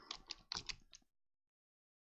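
Keys clatter on a computer keyboard in a short, quick burst of a few presses, then the room goes silent.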